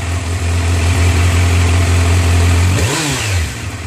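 A Kawasaki Z900 motorcycle idles steadily and loudly close by, then a single quick throttle blip makes the engine note sweep up and fall back toward idle.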